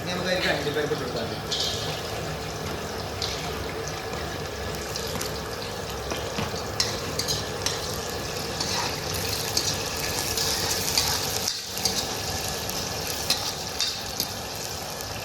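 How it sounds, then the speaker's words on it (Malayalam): Cashew nuts fry in hot ghee for gothambu payasam, giving a steady, close crackling sizzle with occasional stirring clicks that runs throughout, while a voice talks over it. "ചൂടായിട്ട് ഇനി നമുക്ക് അതിലേക്ക് അണ്ടിപ്പരിപ്പ് ഇട്ട് കൊടുത്താൽ"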